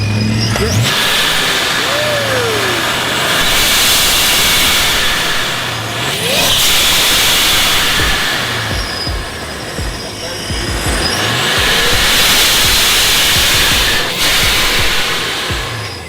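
A ProCharger-supercharged Dodge Magnum engine revs hard in repeated surges with rising whines and loud exhaust roar, close by, with people chattering and cheering over it.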